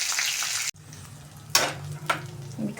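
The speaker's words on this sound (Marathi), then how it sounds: "मिक्सरच्या भांड्यामधला मसाला घालून घेऊया तेलामध्ये आपण." Ground masala paste from a mixer jar is added to hot oil for an egg curry, setting off a loud hiss and sizzle after a brief cut, with sharper sputtering bursts as it is stirred, close and without talk.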